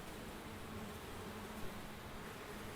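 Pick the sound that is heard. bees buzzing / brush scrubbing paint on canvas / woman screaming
bees buzzing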